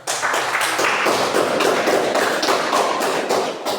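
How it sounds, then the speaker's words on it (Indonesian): A classroom group of students claps steadily for a team, a dense, continuous patter of many hands filling the room at moderate loudness with no talk over it. "tepuk tangan buat kelompok 3"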